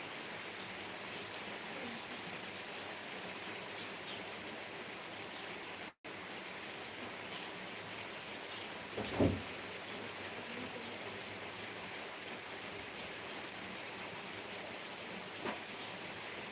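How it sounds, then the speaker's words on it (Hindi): Steady, dense heavy rain hisses evenly throughout, storm-like, heard from a kitchen window, with a brief dropout near the start and a couple of soft knocks partway through. "हमारे इधर एकदम जोरदार बारिश हो रही है"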